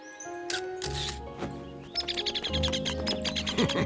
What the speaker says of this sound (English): Are the baby birds okay, Boulder?